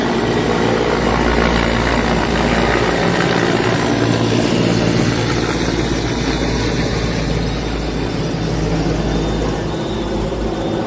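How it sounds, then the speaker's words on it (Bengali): A steady, loud rescue helicopter drone with deep rotor throb, continuous and close, with no voices. "এক হেলিকপ্টার রেস্কিউ করে হচ্ছে গিয়ে সম্ভবত সিএমএসের দিকে যাবে"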